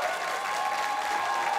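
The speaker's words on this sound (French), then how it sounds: "Applaudissez Keïcha" A studio audience applauds steadily at a French talk show, a dense, continuous clatter of clapping hands at even loudness throughout, with no one speaking over it.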